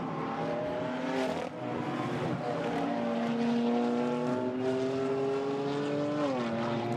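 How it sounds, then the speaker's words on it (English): GT4 race cars at the Paul Ricard circuit in France, engines holding a loud, sustained roar as they pass, with pitch climbing slowly through the gears and dipping near the end. No voices are heard. "Christophe Amont trying to bear down on the Toyota"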